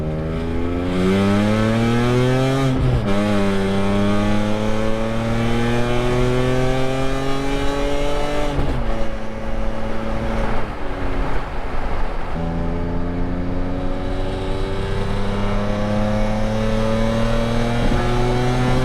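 Car exhaust fitted with Active AutoWorks headers and a Megan Racing catback, a loud, close, raspy drone climbing through the revs in repeated pulls with gear shifts between them, and no talking.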